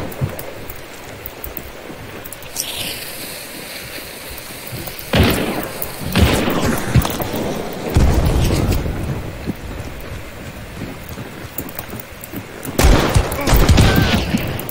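Video-game gunfire erupts in several loud bursts of rapid shots and booms, separated by stretches of quieter background noise, with a short electronic sweep early on.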